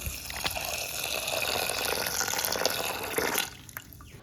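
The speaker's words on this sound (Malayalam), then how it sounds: "ഇനി അതിലേക്കുള്ള വെള്ളം ഒഴിച്ചു കൊടുക്കാം" Water pours steadily into a pressure cooker holding soaked chana dal, a close, continuous splashing stream that stops abruptly near the end, followed by a few faint drips.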